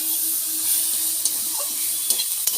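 Drumstick flowers fry briefly in a pan, giving a soft, steady sizzle with a few sharp clicks and scrapes of stirring near the end.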